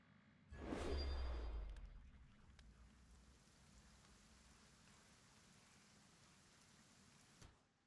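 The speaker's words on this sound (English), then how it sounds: "Why is it raining?" Rain falls in the fantasy role-playing game Pathfinder: Kingmaker, a soft steady hiss of drops on surfaces after a loud low whoosh at the start, continuing evenly with a faint click near the end.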